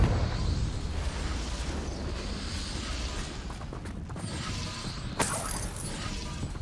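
A Confringo fire spell bursts in Hogwarts Legacy, one sharp blast cracking out over a steady rumbling, mechanical game ambience.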